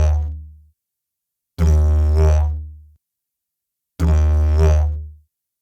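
Didgeridoo droning a slow ta-wa rhythm: three loud, separate low buzzing blows with breaks between, each swelling into a squeezed vowel-like wah, played solo.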